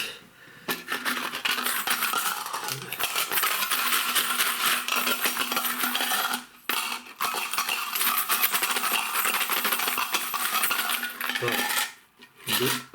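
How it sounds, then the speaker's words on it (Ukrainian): Metal coins pour and clatter into a small jar in a long, dense, rattling jingle, with two brief pauses before a final burst of tumbling clinks, close and loud. "Собрали монети. Так, Вкидаємо сюди в баночку."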